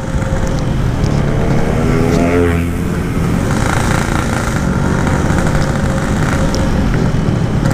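Yamaha RX King two-stroke motorcycle with a damaged reed valve membrane, engine running loud and close under gentle throttle, a rough steady drone with a short rising rev partway through.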